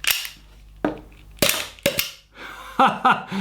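Several sharp, snappy shots from a GHK Glock 17 aluminium CO2 airsoft pistol, close by, spaced irregularly with brief gaps, followed by quicker paired cracks and some mechanical clatter.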